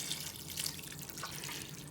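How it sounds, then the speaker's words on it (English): Water pouring steadily into the pot of a Power XL electric cooker for pinto beans, a soft continuous splashing trickle, faint and close, with no voices. "I'm going to start pouring my water in all over"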